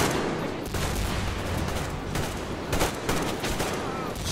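Sustained video game gunfire from allied soldiers in Metro Exodus, a chaotic fusillade of overlapping rifle and machine gun shots with sharp cracks standing out, loud and close throughout.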